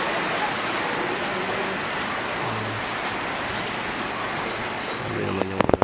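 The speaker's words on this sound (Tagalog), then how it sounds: "umulan na talaga oh." Steady rain pours down, a dense even hiss of drops on surfaces throughout, with a few louder knocks and a brief voice near the end.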